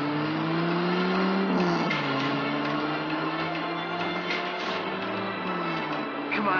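A runaway truck roars at full speed toward a hospital in a TV action series, its engine droning steadily with a shifting pitch, joined by other vehicle noise and tire sounds throughout.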